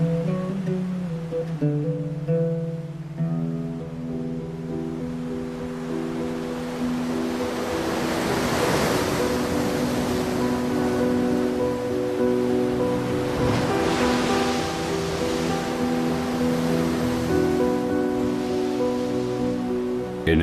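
Mediterranean Sea waves washing in, a broad steady surf hiss that swells twice into fuller breaking crashes, heard alongside a sustained musical tone with no voices.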